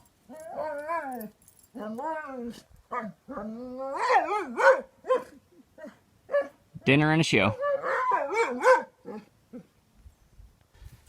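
Dogs barking and yipping while playing outdoors, a run of excited, pitched barks and whimpers in quick bursts, near and fairly loud, with a brief spoken line among them.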